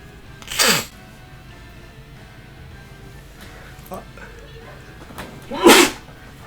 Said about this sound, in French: un petit éternuement passager